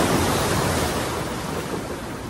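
Sea waves at Vizag beach wash in as a steady, loud broadband roar of surf, continuous throughout with no voices.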